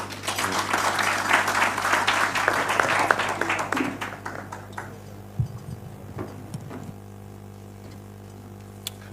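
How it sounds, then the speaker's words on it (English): A crowd applauds at a Kenyan political rally honouring Babu Owino, a dense burst of clapping for about four seconds that quickly fades into scattered claps and quiet. "Another round of applause for the Honorable Babu Owino"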